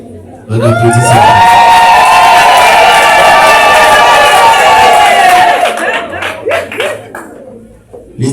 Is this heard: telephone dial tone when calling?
no